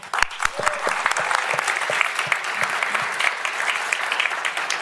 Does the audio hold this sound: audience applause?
yes